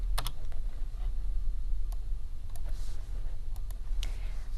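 Keys on a computer keyboard tapped while entering a matrix formula, sparse sharp clicks in small clusters over a faint steady background hum, close and fairly quiet.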